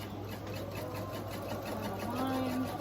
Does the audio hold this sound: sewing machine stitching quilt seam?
yes